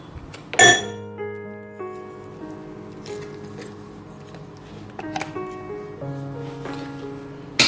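A single bright clink as a highball glass is handled during a hotel room inspection, leaving a lingering ring that fades, followed by a few softer light taps.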